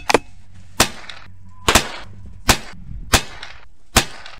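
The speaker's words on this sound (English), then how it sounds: "we'll start off with 5 rounds Federal auto match at 100 yards here." Five sharp, loud shots from a Savage B22 .22LR precision rifle firing Federal Auto Match ammunition at 100 yards outdoors, spaced roughly a second apart, each a crisp crack with a short tail, no talking.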